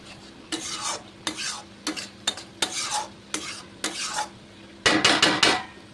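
Spice paste for a Barisal-style aar fish curry fries in a pan as hot water goes in, with repeated scraping stirs, a soft sizzle and a denser burst of hissing and clatter near the end.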